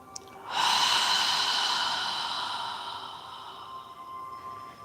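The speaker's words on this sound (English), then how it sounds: "as you inhale through your nose, allow your abdomen to expand and exhale through your mouth, imagining you're fogging a mirror with your breath" A long, close exhale during a yoga breathing exercise, a steady breathy hiss like fogging a mirror that swells quickly after a short quiet start and slowly fades over several seconds, with no speech.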